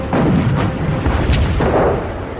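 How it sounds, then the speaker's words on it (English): Anti-aircraft guns on the aircraft carrier Enterprise fire in heavy booming bursts against attacking Japanese Mitsubishi G4M bombers, several loud overlapping blasts in quick succession. "Enterprise's anti-aircraft guns greet the invaders with a cloud of lead."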